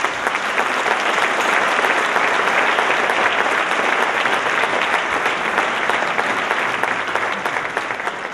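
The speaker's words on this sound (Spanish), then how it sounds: "un aplauso." Sustained applause from the audience at a 50th anniversary ceremony for an association, a dense, loud wash of clapping that holds steady for about eight seconds before easing slightly at the end.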